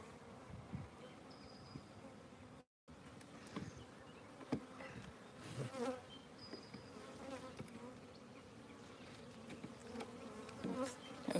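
Bees hum steadily around an open hive during an inspection, a dense buzzing swarm close by with brief louder passes and occasional knocks of equipment, no voices heard.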